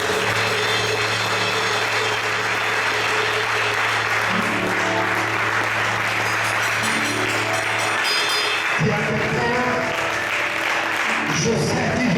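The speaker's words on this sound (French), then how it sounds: "Acclamons le Seigneur très fort." A church congregation claps loudly and continuously to acclaim the Lord, a dense sustained roar of applause with sustained tones and voices rising through it throughout.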